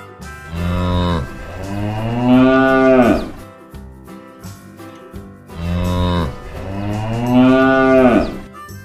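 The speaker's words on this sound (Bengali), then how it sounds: "গরু বাছুর দাঁড়িয়ে আছে" Cattle mooing loudly and close, two long drawn-out moos from a cow and calf standing together, each call swelling and then fading, with a short pause between them.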